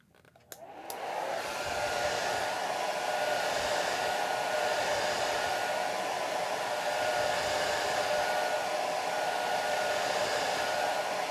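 A hair dryer blows steadily and loudly across watercolor paper, starting with a brief click and then running as a constant close-up whoosh with no talk.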